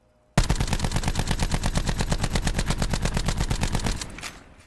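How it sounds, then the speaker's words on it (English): Rampart 17 rifle in Call of Duty Black Ops 4, one sustained burst of rapid, evenly spaced shots lasting about four seconds, loud and close, then a short fading tail. "Rampart 17 naked is not a great gun to be spraying around with"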